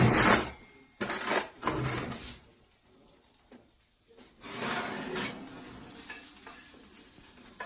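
Sausage cooks in a hot pan, with bursts of sizzling and stirring or scraping in the first few seconds, a near-silent gap, then a softer, steady sizzle returning, with no voices.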